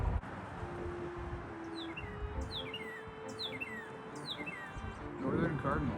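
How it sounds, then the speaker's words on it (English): Song sparrow sings outdoors on a golf course in early spring, a few short bright trilled phrases repeating at moderate distance over faint background hum and a soft low tone. "Song sparrow."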